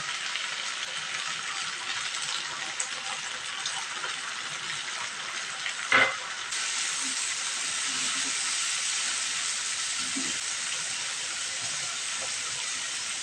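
Spices go into a hot pan of oil for potato curry (aloo dum), giving a steady, bright hiss and sizzle that swells louder after a brief clatter midway, with no talking.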